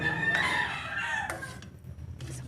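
Several neighbourhood roosters crow in loud, overlapping calls, one after another, with clucking chickens nearby and no talk.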